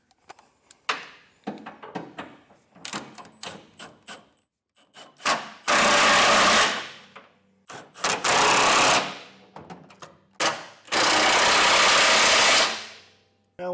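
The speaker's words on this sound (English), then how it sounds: "I'm going to use an impact to just zing them in" An impact wrench drives carriage bolts while a B&W Patriot 5th wheel trailer hitch is installed on a 2021 Ford F-series truck, with loud sustained bursts of several seconds each between lighter clanks and handling noises.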